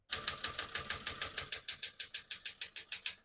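Steady, evenly paced keystrokes on a 1969 Smith-Corona Super Sterling portable typewriter, about twenty sharp, close mechanical clacks in a row with no voices.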